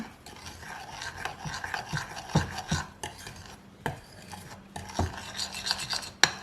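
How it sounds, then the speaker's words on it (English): A homemade facial scrub mixture is stirred in a small jar, giving close, gritty rasping and scraping strokes in an irregular rhythm with sharper clicks now and then. No one speaks. "Stirring it up, stirring it up."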